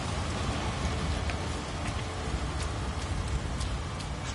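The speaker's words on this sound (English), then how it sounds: "Back outside in the acid rain" Acid rain pours steadily on an alien planet in No Man's Sky, a dense, loud, unbroken hiss with scattered droplet taps and no voices.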